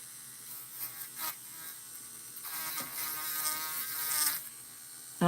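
A nail e-file drill spinning at about 8,000 RPM while cleaning fringe from nail edges, a thin high buzzing whine that shifts pitch and loudness as it touches and lifts from the nail.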